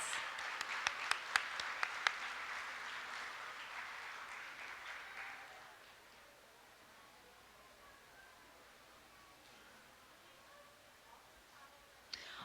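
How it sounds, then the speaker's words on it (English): Audience applause for the candidates at the 2019 Choctaw Nation Princess Pageant, a spread of moderate clapping with a few sharp individual claps that gradually thins and fades to quiet room tone. "Let's give a big round of applause to all of our Miss Choctaw Nation candidates."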